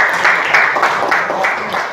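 A classroom group claps for students about to present, a steady burst of applause from many hands filling the room, loud and close with no talk over it.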